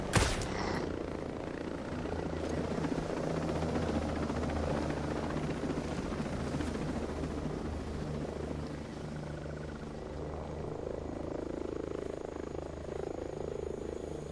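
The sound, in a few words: helicopter in a video game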